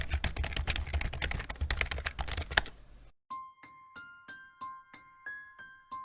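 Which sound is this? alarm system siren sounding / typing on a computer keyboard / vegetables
typing on a computer keyboard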